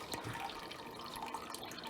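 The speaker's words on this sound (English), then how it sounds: "I'm going to put this water into the tank" Cycled water poured from a container into a goldfish tank, a steady broad splashing trickle running continuously at moderate level with no talk over it.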